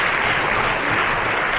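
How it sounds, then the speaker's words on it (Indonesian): Dense, even applause from a convention audience fills the whole moment, a steady loud patter of many hands with no voices. "Boleh tepuk tangan, luar biasa."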